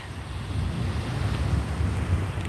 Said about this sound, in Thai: เห็นเป็นมหาสมุทรมา